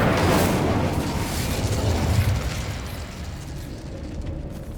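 Incendio fire spell cast in Hogwarts Legacy, a loud sustained fiery roar and rumble that bursts at the start and keeps churning for several seconds before easing slightly.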